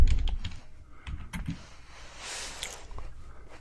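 Keys clattering on a computer keyboard during SQL query typing, a quick burst of close clicks at the start followed by sparser taps, with a faint whirring hum in the middle.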